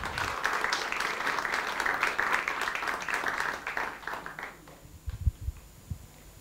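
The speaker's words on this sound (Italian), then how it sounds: "E un grande applauso." Audience applause at a live Italian evening show being recorded for local TV, a dense steady clapping that fills the room for about four seconds, then fades out, leaving a few low thumps and bumps.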